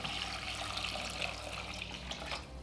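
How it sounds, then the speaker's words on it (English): Steady rush of about 4 cups of water pouring into a pot of vegetables for ramen, continuous and fairly close, with no talking. "Then we're going to add about 4 cups of water."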